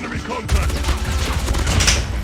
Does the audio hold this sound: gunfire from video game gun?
yes